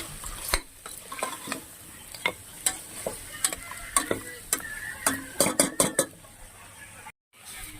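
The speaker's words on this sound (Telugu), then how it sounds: "కొంచెం గరం మసాలా అండి వేసి ఒకసారి కలిపి" A pan of mutton paya curry is stirred after garam masala goes in: a series of sharp scrapes and clinks of a spoon against the pot, irregular but repeating, over a faint sizzle, ending in a brief silence.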